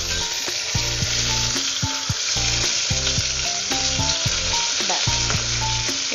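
Tilapia pieces, just turned over, sizzle hard in hot oil in a pan, a loud continuous crackle with small pops and bubbling throughout.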